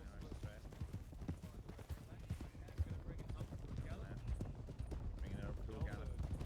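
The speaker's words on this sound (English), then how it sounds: "Bringing it up to a gallop." A horse galloping in the Red Dead western game, with rapid, continuous hoofbeats close up and fairly loud, running under a voice talking over them.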